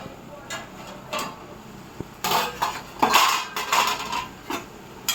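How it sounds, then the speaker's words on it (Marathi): Metal kitchenware clatters close by as a lid is set on a pot of cooking pumpkin sabzi, with a sharp tap and then a run of clinks and rattles of varying loudness. "आता यावरती मी झाकण ठेवत आहे"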